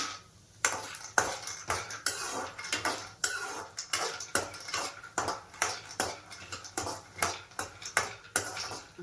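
Almonds being stirred in ghee in a pan for a baby weight-gain home remedy, with a spoon clinking against the metal in a steady run of sharp, close scrapes and taps, one roughly every half second.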